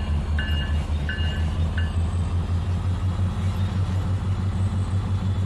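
A locomotive in the video game Trainz 2019 strains to pull a heavy train on a grade, a constant deep droning rumble broken early on by a few short, high tonal blips.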